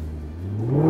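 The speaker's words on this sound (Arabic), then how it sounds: "خلينا نرجع نسمع صوت هذا المحرك الروعة" A 2018 Maserati GranCabrio engine revs up, its pitch climbing steadily and the sound growing louder over a short burst, with no voices.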